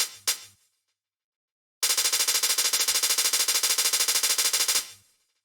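Hi-hat triplets play on an MPC drum machine, with two quick opening hits followed by a short gap and then a fast, even, loud run of identical bright ticks lasting about three seconds.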